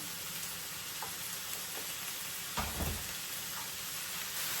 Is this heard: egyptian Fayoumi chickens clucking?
no